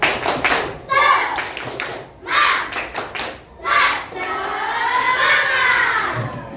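A primary-school class claps the rhythmic 'tepuk semangat' in bursts of quick claps. Children shout chanted words between and over the claps, ending in a long cheer.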